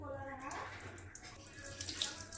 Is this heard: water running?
yes